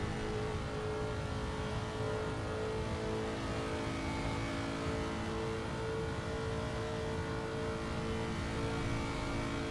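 Race cars roar steadily around the Nordschleife in a racing video game, a constant layered engine drone from a full grid with revving tones, moderately quiet and continuous, with no talk.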